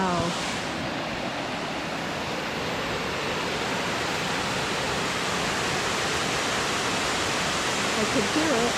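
Waterfall at Silver Falls State Park, Oregon, a steady, broad rushing roar that holds evenly throughout, fairly close and unbroken, with faint hints of a voice at the start and end.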